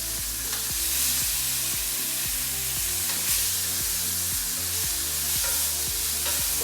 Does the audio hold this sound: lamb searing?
yes